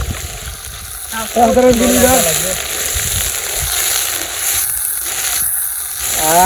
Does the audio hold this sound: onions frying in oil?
yes